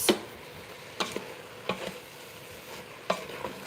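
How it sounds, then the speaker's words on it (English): A spoon stirring beef stew in a cooking pot, giving a few faint, separate scraping clicks against the pot at irregular intervals over quiet background noise. "And I'm going to stir this"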